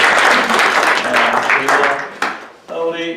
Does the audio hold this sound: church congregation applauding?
yes